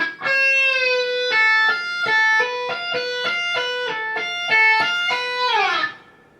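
Electric guitar playing a passage from a solo, a run of clear, sustained notes picked one after another in quick succession, close and alone, ending in a falling slide.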